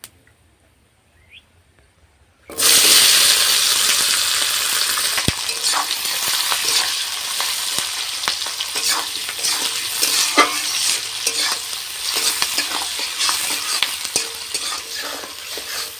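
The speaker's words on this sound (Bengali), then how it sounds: "পেঁয়াজটা আমি খুব বেশি লাল লাল করে ভাজবো না" Chopped onions hit hot mustard oil tempered with cumin, bursting into a loud sizzle after a quiet start, then frying steadily with repeated scraping and clinking stirs of a spatula in the pan.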